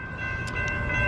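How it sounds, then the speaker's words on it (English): A train approaching near a road crossing in Gastonia, with a sustained horn tone and rumbling rail noise building steadily louder over a short moment. "We can't cross the road yet because there's a train coming."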